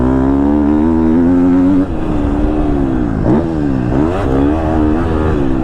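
2022 KTM 250 SXF four-stroke motocross bike, its engine loud and close in a steady drone that rises and falls with throttle changes, with no voices over it.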